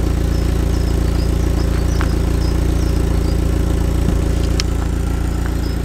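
A neglected Audi TT idles through its stock exhaust in a steady, even low rumble that runs unbroken, close and loud, with no talking.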